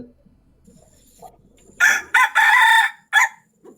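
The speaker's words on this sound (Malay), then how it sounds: "Sebab biasa ayam kalau bunyi kokok kokok tu yang tengah-tengah pagi je." A rooster crows loudly and close by in a single drawn-out cock-a-doodle-doo that breaks into several pulses, following a few seconds of near silence.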